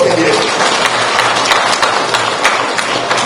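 Crowd applause at an outdoor political rally, a dense, steady wash of clapping from a large gathering, loud and continuous with no talk over it.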